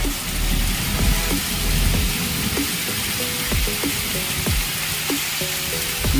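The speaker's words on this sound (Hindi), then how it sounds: "बारिश का मौसम" Steady rain hisses continuously at an even level, with occasional soft drips and low thuds underneath.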